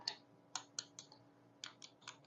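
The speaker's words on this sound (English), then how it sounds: "I'm going to tap it on this pair of scissors." Several light, sharp metallic taps of a metal hook on a pair of scissors in an uneven rhythm, quiet and close, each a brief bright click against near silence.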